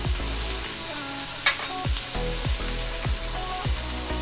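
Garlic, chopped red chilli and chili powder fry in a cast iron pan with a steady close sizzle, broken by several soft knocks and scrapes of stirring.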